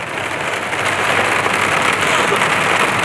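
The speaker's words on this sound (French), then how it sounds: "Ah ouais si, il y a de la grêle." Dense, steady hail drumming on a car windshield during a storm in Montpellier, a loud continuous rattle heard from inside the vehicle with no pause.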